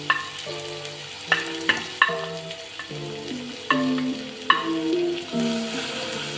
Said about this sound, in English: To that I am going to add chopped onions and curry leaves.